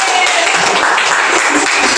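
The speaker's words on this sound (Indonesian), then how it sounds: "Tepuk tangan semuanya." Classmates in a tenth-grade classroom clap together after a group finishes retelling a story, a short burst of close clapping mixed with voices.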